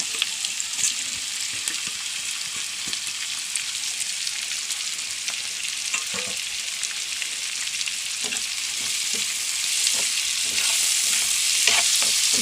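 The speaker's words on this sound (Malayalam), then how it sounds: "സവാള ഇട്ടു സവാള ഒന്ന് വാടി സവാള വാടിയപ്പോൾ ഇഞ്ചി വെളുത്തുള്ളി പച്ചമുളക്" Onions, ginger, garlic and green chillies fry in oil for a chicken biryani masala: a dense, steady, close hiss of sizzling with scattered scraping knocks from a spoon, growing slightly louder toward the end.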